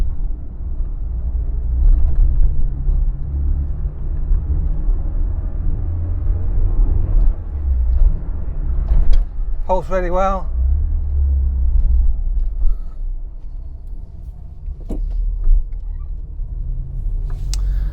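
A 1990s Rover Metro without power steering driving along, its low engine rumble and road noise steady throughout, with someone talking over it and a brief higher whine midway.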